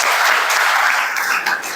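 Steady, dense applause from an audience at a youth day celebration for students, continuous and fairly loud across the whole stretch with no voices over it.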